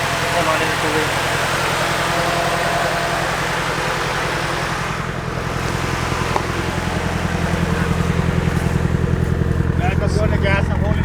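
Nissan 240SX S14 kouki engine held steady around 2,000 RPM, a continuous low droning hum with strong engine harmonics running throughout, close and fairly loud, with people talking over it.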